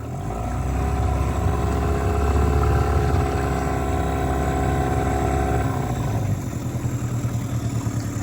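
A restored 1999 Mercury 15hp outboard motor runs steadily with a strong, even drone. Near the end its pitch and tone shift as the gearing changes, and it keeps running smoothly throughout.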